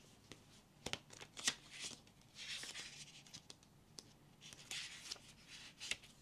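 Tarot cards are shuffled by hand at close range, a soft, quiet run of riffling and brushing with small taps and flicks coming in uneven bursts as a card is drawn.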